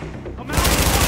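Automatic gunfire in Tom Clancy's The Division, a rapid burst of loud close shots starting abruptly after a brief quieter moment, with voices audible underneath.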